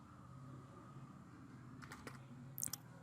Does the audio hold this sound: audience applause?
no